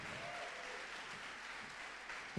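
Congregation clapping in a church service, a continuous soft sheet of applause from many people at a moderate distance, steady throughout and rising slightly at the very end.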